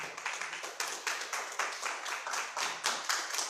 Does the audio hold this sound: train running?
no